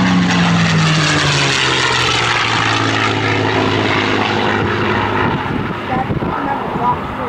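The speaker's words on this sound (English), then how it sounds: "And here is Scott Scooter Yoak in Quicksilver flying the Falcon turn." P-51 propeller plane Quicksilver flying the Falcon turn at a World War II Weekend airshow, a loud, close engine drone with a falling pitch sweep, easing slightly near the end.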